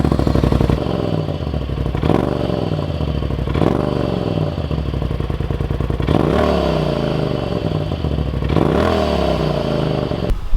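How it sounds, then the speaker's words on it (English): A Polaris RZR Turbo S engine revs hard in repeated bursts, each rise ending in a sharp whooshing release from the blow-off valve, close and loud. "see how loud the blow-off valve is"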